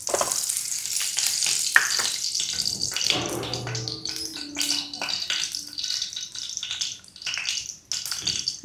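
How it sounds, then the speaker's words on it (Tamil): Ghee sizzles and crackles steadily in a hot pan, ready for roasting cashews and raisins, with occasional clinks and stirring scrapes close by and no talk. "நல்லா எண்ணெய் சட்டி காஞ்சிட்டு இப்போ நெய்யை ஊற்றிடுவோம்."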